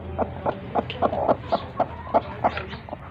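Three hens sitting on a clutch of eggs give a steady run of close, short clucks, about three or four per second, with no other sounds.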